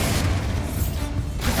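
Bombarda explosion spell cast in Hogwarts Legacy: a deep booming blast with a rumbling, muffled tail filling the short moment, loud and close throughout.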